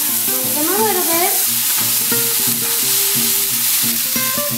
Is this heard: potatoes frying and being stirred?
yes